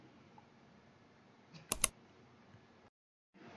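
A quick pair of sharp computer mouse clicks, close and fairly loud, stands out once against a quiet room hum while a suspicious program is selected and uninstalled on a PC.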